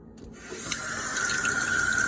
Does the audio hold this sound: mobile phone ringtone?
no